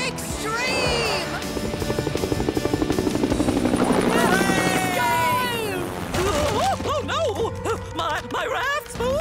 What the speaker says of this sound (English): Next up, the ultimate copter!